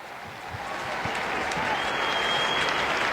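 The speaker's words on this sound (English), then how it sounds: "Let's have a round of applause." Crowd at the 2021 AFLW Grand Final ceremony, Adelaide versus Brisbane, gives a round of applause for the season, clapping swelling from moderate to loud and steady, with a faint whistle and crowd murmur underneath.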